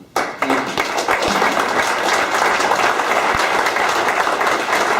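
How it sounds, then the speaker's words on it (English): A room full of debate spectators breaks into applause after a marijuana debate, a few sharp claps first and then dense, steady clapping that holds at full strength to the end. "Please give a round of applause to Bill Montgomery and Marc Baker."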